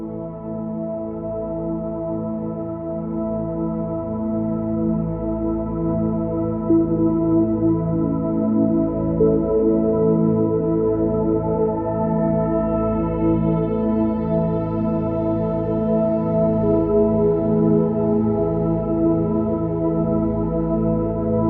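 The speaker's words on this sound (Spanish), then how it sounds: "432 Hz. Y este sonido suena así." A 432 Hz solfeggio tone plays as a continuous, dense drone with layered sustained pitches, steady and moderately loud throughout with no speech.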